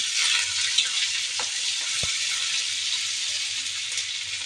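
Prawns frying in oil in a home kitchen pan, a steady bright hiss of sizzling throughout with a couple of faint clinks, no voices.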